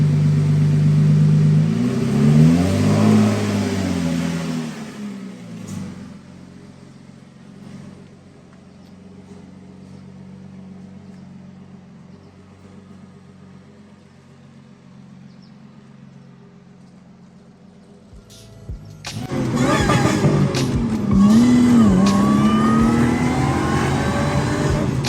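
A car on a test drive accelerates with a rising engine note, settles into a quieter cruising hum, then revs strongly again near the end. No voices are heard.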